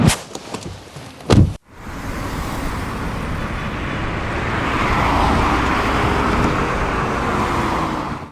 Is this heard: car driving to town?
yes